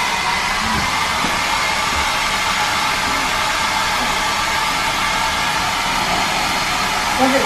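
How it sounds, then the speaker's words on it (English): A hair dryer blows steadily on a piece of clothing stained by wrinkle releaser in a cruise ship cabin, a loud, unbroken whooshing roar that runs the whole time with only faint hints of voices beneath it. "Does it say on there not to blow dry it?"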